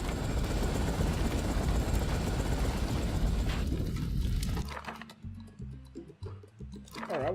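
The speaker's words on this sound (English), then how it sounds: "So is this sending another helicopter to do a..." A helicopter in the city-building game Tropico 4 gives a dense, steady rotor chop for several seconds, then cuts off abruptly, leaving sparse clicks and light game sounds with no talking.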